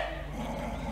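Dogs growl with low, steady, rumbling snarls, heard faintly and at a distance, as though playing from a device.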